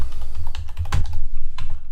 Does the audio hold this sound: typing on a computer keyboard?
yes